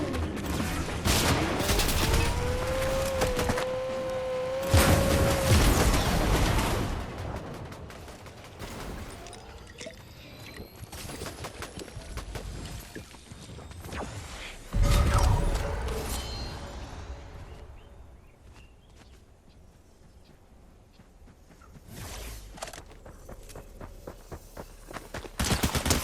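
Surge SMG fire in Fortnite, rapid bursts of automatic shots in short volleys separated by quieter stretches, with footsteps and mechanical game effects in between.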